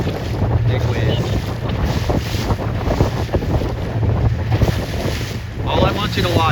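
A sailboat racing in a regatta plows through big waves in strong wind, with a constant roar of wind buffeting the microphone and rushing, splashing water.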